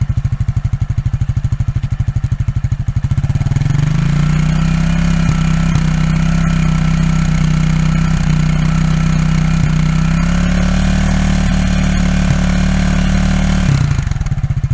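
A new Vento Thriller motorcycle runs loud and close, idling briefly before the exhaust is revved and held at mid revs around 4,000-5,000 rpm, a steady droning engine note that eases back down near the end.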